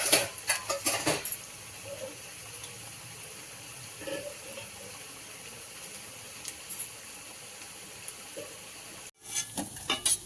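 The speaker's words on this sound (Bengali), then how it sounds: "মচমচে করে ভাজা হবে একটু" Drumstick flower fritters frying in hot oil, a steady crackling hiss that runs throughout, with a few light clinks of a utensil near the start and end.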